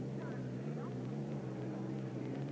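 Budweiser racing boat roaring through a heat of the 1982 Seattle race, a steady, loud engine drone running unbroken throughout while a commentator talks over it.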